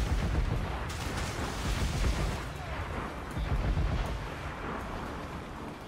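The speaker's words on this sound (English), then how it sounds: "Cannon ready!" Ship cannons firing during a naval battle in the video game Assassin's Creed IV Black Flag, heard as a continuous dense roar of booming blasts and rumbling, loud and sustained throughout with no clear gaps, alongside wind-like noise.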